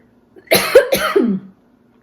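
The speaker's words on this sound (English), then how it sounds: "I think I have to cough." A single short cough burst, close and fairly loud, with two quick hacking pulses, surrounded by silence.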